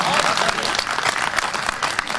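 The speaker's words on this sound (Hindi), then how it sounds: "जोरदार तालियां, कमाल की पंक्ति है।" Audience at a Hindi poetry recital (kavi sammelan) bursting into dense, loud applause that fills the whole moment, with voices mixed in beneath the clapping.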